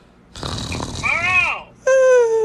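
A person fakes loud snoring as a prank during an online Zoom class, a voice imitating the sound in two or three rough, drawn-out vocal snorts and groans, close and loud.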